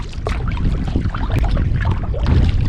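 A kayak paddles along calm water at Cape Lookout National Seashore, close splashes and swishes of the paddle under a steady wash of wind.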